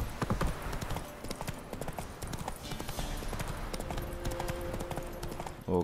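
Horse hooves clip-clop at a steady gallop in The Witcher 3 video game, a rapid rhythmic thudding that runs throughout, fairly close, with faint game ambience and no clear talk.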